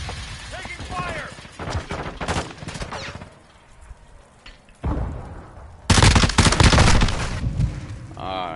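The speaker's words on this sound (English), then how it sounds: "Taking fire." Bursts of gunfire from a Modern Warfare 2 firefight, loud rapid volleys with a quieter lull midway, then a dense, harsh stretch of shooting near the end, with game voices mixed in.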